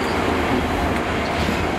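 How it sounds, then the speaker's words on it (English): A train runs at a Cardiff Central station platform, giving a steady, loud rumble of wheels and carriages close by with no talking. "Trains pull in and go back out from platform 2."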